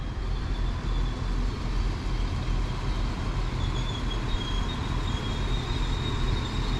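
A Northern Class 195 diesel unit pulls into a platform at Lincoln Central, a loud, steady low engine rumble with a faint high whine above it throughout, and no one speaking.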